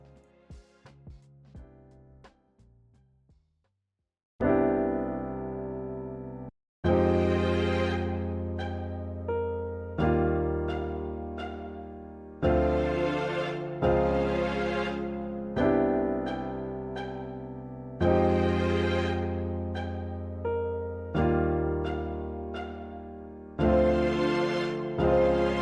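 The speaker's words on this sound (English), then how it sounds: "I decided to layer the piano with strings" A neo soul piano layered with BBC Orchestra violin strings plays a slow chord progression, sustained chords swelling and restarting every few seconds after a short quiet intro, clear and alone with no voices.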